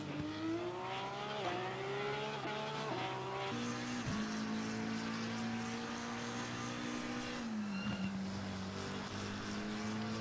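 A Porsche and a McLaren race in Assetto Corsa Competizione in the rain, engines droning and rising in pitch through gear changes, with a sharp downshift and drops in revs, steady and fairly close with no talk.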